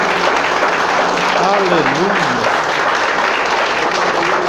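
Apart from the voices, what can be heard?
church congregation applauding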